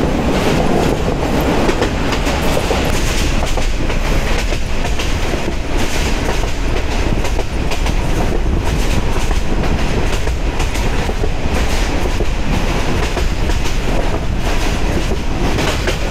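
A local Mohua commuter train runs through forest, its wheels and carriages producing a loud, continuous rattling clatter and roar from onboard, steady throughout.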